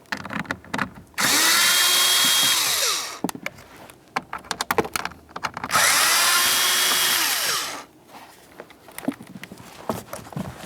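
Two loud bursts of a power drill or impact driver spinning out 8mm bolts from the blower motor housing of a 2009-2010 Pontiac Vibe, each lasting about two seconds, separated by clinks and handling of tools and parts.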